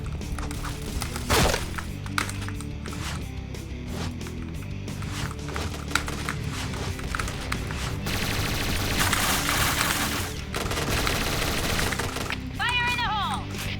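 Rapid gunfire in a shooting video game, with bursts of automatic weapon shots and sharp single cracks, a grenade-like blast near the end, and someone talking over much of the action.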